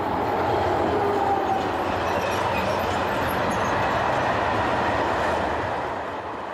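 An SNCF Class 25500 electric locomotive passing with its train in central or western France, a steady loud rolling rumble of wheels on rail that holds for several seconds and fades slightly at the end.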